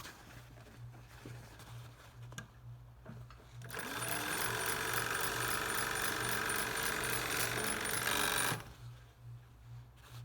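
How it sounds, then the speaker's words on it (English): A Union Special 51800 industrial overlock sewing machine stitches a waistband in a steady, loud, rapid run lasting about five seconds, starting abruptly and stopping sharply, with quieter workshop sounds and a low hum before and after. "And the overlock machine gets overlocked all the way from the waistband all the way down throughout the piece."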